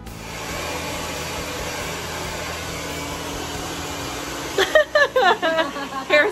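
A hair dryer blows steadily on fine, thin hair conditioned at the ends, a close, constant whooshing hiss that runs throughout, with a person starting to speak over it near the end.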